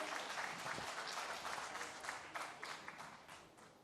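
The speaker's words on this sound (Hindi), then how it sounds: "एक बार जोरदार तालियों के साथ शिवपाल यादव जी का स्वागत कीजिए" Audience applause welcoming politician Shivpal Yadav at a 2022 Uttar Pradesh election event, dense sustained clapping from a crowd, fairly faint and steady throughout with no speech over it.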